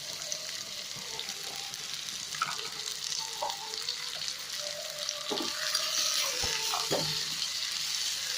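Ingredients are stirred and fried in ghee with cashews and raisins for Arabian majboos biryani, a soft continuous sizzle with scattered clinks and scrapes of a utensil against the pan, close and fairly quiet, with no speech.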